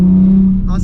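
A Nissan 350Z HR engine, recently showing a check engine light and not running quite right, holds a loud, close, steady drone for under a second, with a brief shift in tone near the end.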